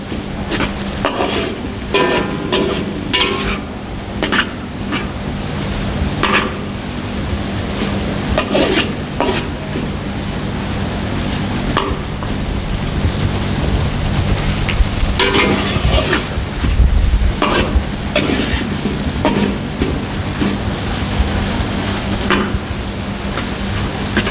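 Pad thai stir-fried in a pan until the liquid cooks off, with steady sizzling and frequent scraping and stirring strokes that stay loud and close throughout, without any talking.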